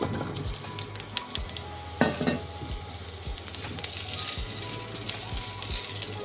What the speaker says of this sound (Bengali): এবারে যে কাঁচা আমগুলো কেটে রেখেছিলাম সেটা দিয়ে দিচ্ছি।